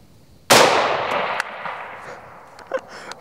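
A single loud, close gunshot fired at reactive targets, one sharp crack whose ring decays over about two seconds, followed by faint clanks and ticks.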